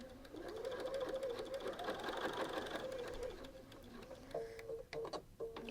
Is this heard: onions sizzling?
no